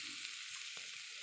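Chowmein and potatoes stir-fry in refined oil, giving a brief, even, faint hiss of frying with a soft stir midway.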